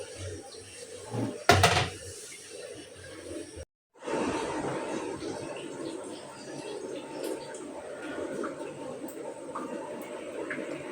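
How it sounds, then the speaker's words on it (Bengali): A metal lid is set onto a cooking pot of biryani with a single sharp clatter. A low kitchen hum follows, broken briefly by a moment of silence, with a soft voice faintly in the background. "ঢাকনা ঢাইকা দিই।"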